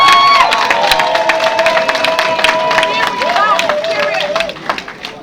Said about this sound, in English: Ladies and gentlemen, again, I want to give Mr. Carter a big hand clap.